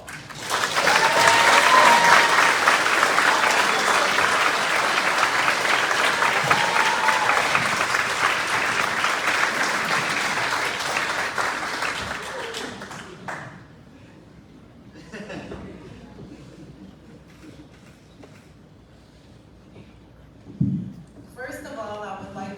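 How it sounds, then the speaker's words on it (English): An awards ceremony audience breaks into loud, dense applause that swells then gradually thins out over about thirteen seconds, with a few chuckles mixed in, before fading to quieter room sound and a brief voice near the end. "Let's welcome Gloria to the stage with a round of applause."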